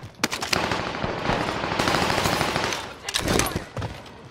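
MP40 submachine gun fire in a video game: rapid sustained automatic bursts, loud and close, with sharp separate shots at the start and end and short pauses between volleys.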